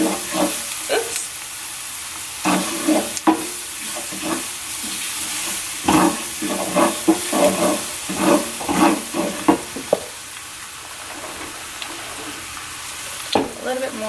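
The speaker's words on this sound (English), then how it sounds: "we're going to saute this lightly" Crawfish étouffée sautéing in a pan over a steady frying sizzle, with repeated scraping stir strokes coming in bursts, close and fairly loud, with no voices.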